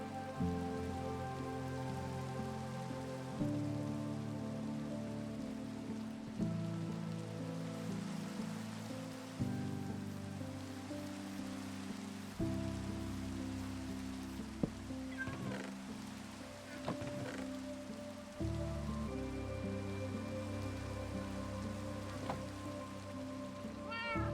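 Rain falling in the Minecraft game world, a soft steady patter beneath sustained tonal background music, with faint higher chirps and sparse clicks scattered through the middle.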